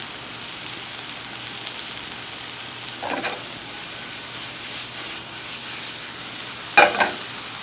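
Vegetables browning in a pan with very little oil give a steady, moderate crackling sizzle, with two brief louder clatters of stirring partway through and near the end.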